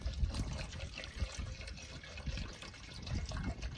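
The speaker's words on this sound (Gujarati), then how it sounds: "હવે નાખવાનું છે પાણી। જો આપણે પાણી નાખી દીધું છે।" Water is poured into a pot for Maggi instant noodles outdoors in a windy forest, a soft, close trickling pour under low gusty wind rumble.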